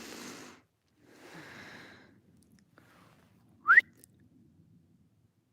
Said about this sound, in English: Can you hear that whistle?